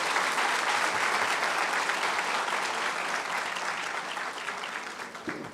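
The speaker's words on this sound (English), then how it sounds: "Can we have a round of applause for our presenters?" An audience at a middle managers' leadership conference claps for the presenters, a dense, sustained round of applause that fills the room and slowly fades toward the end.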